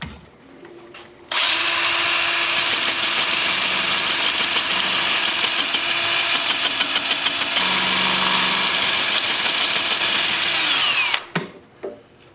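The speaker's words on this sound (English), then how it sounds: "I want to sand this bark and I want to sand the underside here." A power sander works the bark edge and underside of a live-edge, end-grain winged wooden bowl, starting abruptly with a loud high whine that holds steady with slight pulsing, then stops and spins down near the end.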